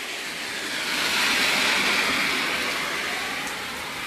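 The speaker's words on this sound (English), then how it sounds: "now it's raining even harder now" Heavy rain pours during a stormy day, a steady broadband hiss that swells slightly and holds, heard close without talk.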